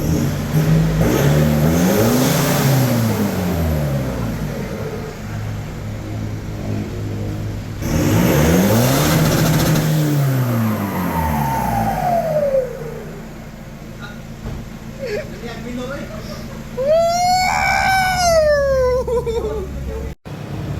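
Toyota Hilux with a mid side exit exhaust revs repeatedly: the engine climbs and falls in long swells, then a higher, sharper rev rises near the end. Loud and close, with voices and laughter mixed in.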